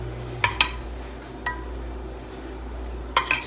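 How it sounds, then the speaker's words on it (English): A spoon clinks against a container while peanut butter mixture is scooped into an ice tray, a few sparse light taps and scrapes close by over a faint steady hum. "I'm going to spoon in the mixture"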